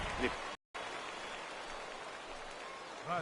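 Rain falls steadily on the field during a baseball game in a PS4 video game, a soft even patter that runs almost throughout, briefly cut out once, with faint voices early and late.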